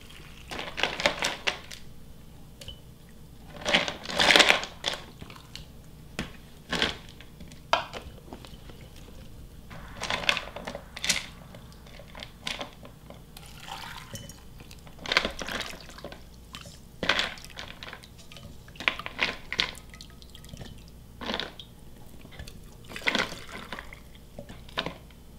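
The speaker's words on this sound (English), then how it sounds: "I'm just going to ladle in our nice broth here into our" Broth being ladled into canning jars for water-bath banana peppers, with intermittent pours, drips and clinks of ladle on glass scattered across a quiet kitchen.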